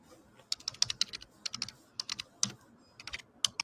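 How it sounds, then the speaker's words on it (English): Typing on a computer keyboard, with quick irregular bursts of sharp, light key clicks close to the microphone and short pauses between them, against a quiet background. "It's crazy that the typing is louder than her whispers."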